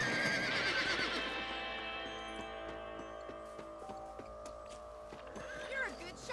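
A horse whinnies loudly and briefly in Red Dead Redemption, followed by soft hoof clops and a quiet game soundtrack with plucked and sustained tones.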